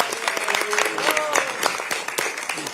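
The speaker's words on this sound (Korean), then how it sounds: "박수." A meeting room of party members applauds to welcome newly hired party office staff at a Democratic Party supreme council meeting, with a burst of steady clapping from a small crowd that carries on under voices talking.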